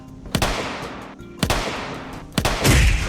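Three sharp gunshots from Fallout weapons in a Skyrim video game battle, evenly spaced about a second apart, loud and close, each with a short echoing tail, with a brief scuffle at the end.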